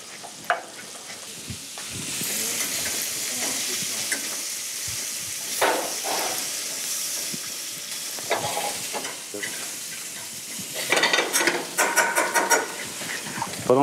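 Horn of plenty mushrooms and finely chopped shallots simmering and sizzling in a pan, with a steady frying hiss throughout and occasional clinks and scrapes of a utensil stirring near the end.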